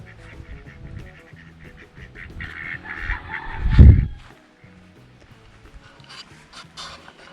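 Ducks feeding on string bean leaves: a jumble of nasal quacking and honking, fairly close, with one louder burst in the middle and lighter chatter around it.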